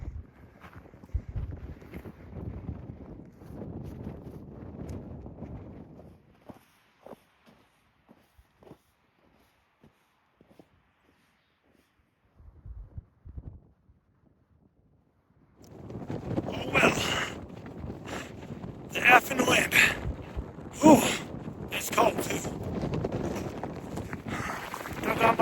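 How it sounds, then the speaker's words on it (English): Strong gusts blast across an exposed mountain ridgeline on the way up Mt. Baldy, heavy wind buffeting roaring in bursts during the latter half after quieter stretches of footsteps and rustling. "Man, the wind is really bad right now."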